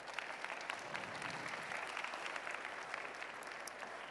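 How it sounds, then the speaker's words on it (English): A conference audience applauds as a speaker is invited on stage at a fashion-industry event on creative circularity; dense, steady clapping from many hands fills the room at moderate volume without a break and with no voices over it. "A round of applause to Helene Valade."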